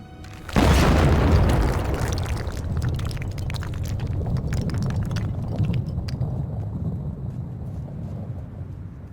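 A large in-game explosion as an enemy gun emplacement is blown up in Medal of Honor: a sudden loud boom followed by a long rumbling roar and crackling debris that fades slowly over several seconds.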